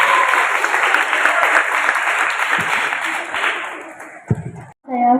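Students in a classroom applaud a classmate with dense, continuous clapping for about four seconds that fades out, followed by a brief voice.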